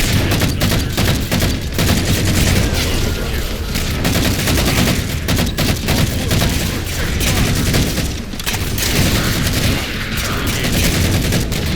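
Rapid bursts of gunfire and automatic weapon fire in the Halo 4 video game, dense overlapping shots with booms throughout a firefight, with brief radio-style voices mixed in.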